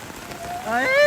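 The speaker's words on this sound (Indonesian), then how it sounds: "Hujan." Rain falling at an outdoor funeral gathering at a Toraja tongkonan, a steady wash of drops that grows louder toward the end, with a rising tonal whine and faint voices mixed in.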